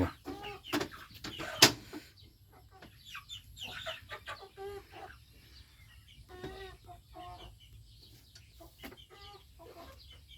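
A flock of chickens clucking in a coop, with repeated short clucks and cackles across the clip, a few louder knocks near the start and quieter calls following, close and without talk.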